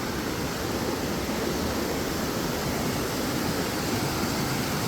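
A creek on the Appalachian Trail flows under a wooden footbridge, producing a steady, dense rushing of water that holds constant throughout with no voices.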